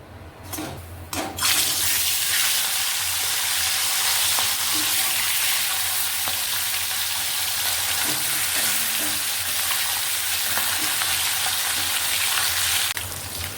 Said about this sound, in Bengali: লো ফ্লেমে রেখে এবার মাছগুলোকে ভালো করে ভেজে নিতে হবে